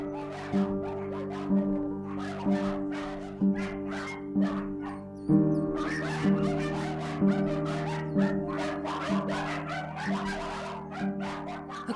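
Puggle puppies in cages bark repeatedly in short yips and bow-wows, with whimpering between bursts, several dogs close by against a steady background hum.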